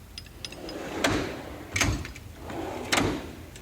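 A drawer slides open in a shop toolbox, rolling runners rumbling with a few clunks and knocks from loose tools inside, close by and alone.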